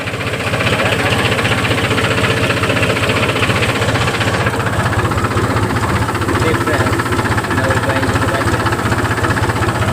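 A steady, low engine rumble runs throughout with a regular chugging pulse, close and loud, like a tractor idling or working nearby.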